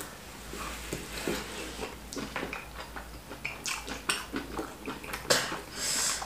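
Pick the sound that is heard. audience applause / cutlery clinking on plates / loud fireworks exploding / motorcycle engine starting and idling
cutlery clinking on plates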